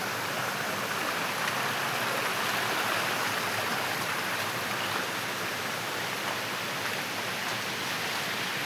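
Small waterfalls pour down steps beside the Mumbai-Goa highway in the monsoon, a steady loud rushing hiss of water with no pauses or talking.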